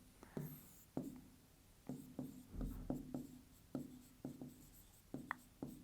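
Trigonometry abbreviations being written on a board during a maths lesson, heard as a steady series of short, close tapping and scratching strokes at an irregular pace, with no talking.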